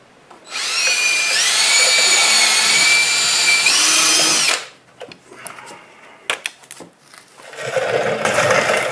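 A power drill whirs loudly for about four seconds, then stops, followed by a few scattered knocks and handling clatter.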